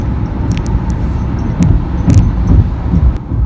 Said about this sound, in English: Their spare tire thingy is dragging.